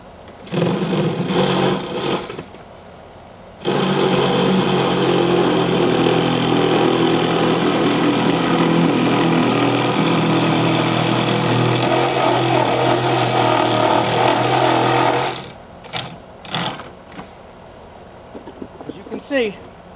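A power saw cuts straight across a piece of wood during a soffit and fascia repair, running loud and steady for about twelve seconds before stopping, with brief handling noises before and after.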